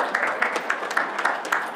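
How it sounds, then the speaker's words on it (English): Short applause from a meeting audience after the Pledge of Allegiance, a brief scattered patter of clapping hands at moderate level. "Let's give her a round of applause"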